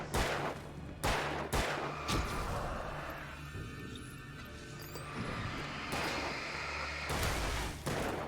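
Gunfire rings out in the Alan Wake video game: a few sharp, loud shots come at irregular intervals, with rumbling and crashing game sounds between them.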